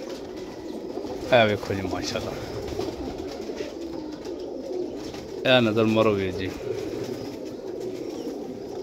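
Golden pigeons coo in two clear bursts of soft, throaty calls at close range, over a steady background hum, with someone talking between and around them.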